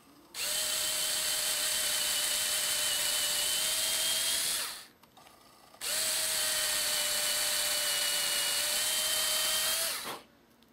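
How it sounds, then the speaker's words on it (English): A small electric drill drilling pilot holes in wood whines steadily in two long bursts of about four seconds each, with a brief pause between them, close and loud. "I'm going to take my little drill and drill some pilot holes"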